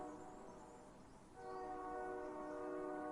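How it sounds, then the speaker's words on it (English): A distant train whistle in a video game sounds as a sustained, layered horn tone that swells louder partway through and holds steady to the end. "I hear a distant train whistle."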